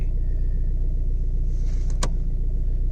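An automatic VW Beetle drives with a steady, close engine rumble and road drone throughout, broken by one brief sharp click partway through.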